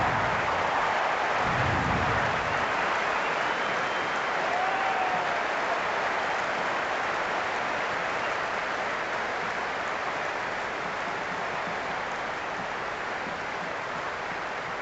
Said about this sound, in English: already the crowd making a hell of a racket